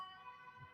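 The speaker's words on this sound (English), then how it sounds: "there is always sirens of police or ambulances or something like that" Emergency siren, police or ambulance, in central Amsterdam, a steady tonal wail held at a distance as faint background for the brief moment, with no talk.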